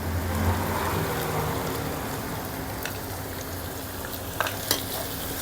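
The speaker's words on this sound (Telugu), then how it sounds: "వీటన్నిటిని ఒకసారి ఇలా బాగా కలుపుకుందాం" Carrot curry with green chillies and salt being stirred in a pan, giving a steady sizzling, frying hiss with a few soft scraping clinks near the end, close and moderately loud, no talking.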